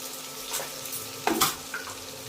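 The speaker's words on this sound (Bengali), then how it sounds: "টমেটোকে আস্তে আস্তে নাড়াচাড়া করে নেব" Chopped tomatoes with spices fry in a pan over browned onions, giving a soft, steady sizzle broken by a few quick spatula scrapes and stirs.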